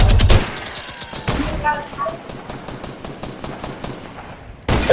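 Rapid automatic gunfire in a video game, a loud opening burst followed by a steady string of evenly spaced shots that fade slightly before another loud blast at the end.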